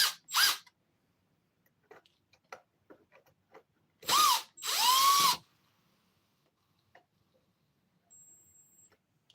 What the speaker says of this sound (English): Get these screws out of here. This is just in the air filter box.